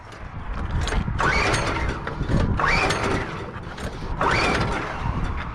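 A small engine on a homemade hydroseeder runs at full throttle, loud and close, with a rough mechanical clatter that surges in repeating waves.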